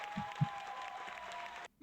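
Brief light applause from a small studio group on a casual talk show, soft patter of clapping with a faint tone beneath, cutting off abruptly before a voice begins.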